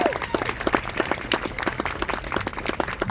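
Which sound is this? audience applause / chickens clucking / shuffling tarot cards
audience applause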